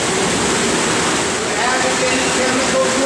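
Sprinkler spray system at a wastewater treatment plant throws effluent water in a steady, loud hiss and patter that fills the whole stretch without a break.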